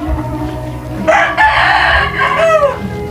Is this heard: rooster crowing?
yes